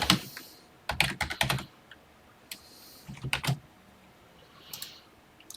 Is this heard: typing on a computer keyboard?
yes